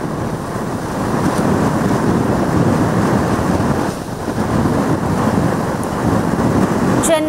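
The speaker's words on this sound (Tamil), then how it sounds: "சென்னை, மெரினா, பட்டினம்பாக்கம் உள்ளிட்ட கடற்கரையிலும் பலத்த காற்று வீசியது" Strong stormy wind on the coast at Chennai's Marina and Pattinambakkam beaches during Cyclone Fengal, a loud, continuous roaring gust buffeting the microphone, with a brief dip midway before surging again.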